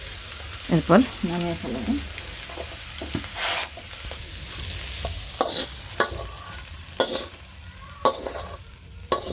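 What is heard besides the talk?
cumin added to frying snake gourd, sizzling and stirring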